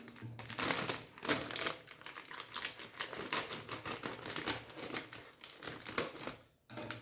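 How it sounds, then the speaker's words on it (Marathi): Puffed rice (murmure) being sifted through a sieve in a home kitchen, a dense, continuous rattling patter of light grains hitting mesh, loud and close, stopping briefly near the end. "आता हे मुरमुरे मी चाळून घेणार आहे चाळणीने."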